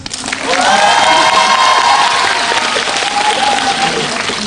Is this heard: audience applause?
yes